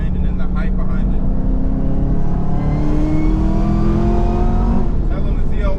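Chevrolet Camaro ZL1 revs hard with its supercharger whining, a loud sustained engine roar that climbs and falls in pitch with a rising whir layered on top, close and continuous throughout.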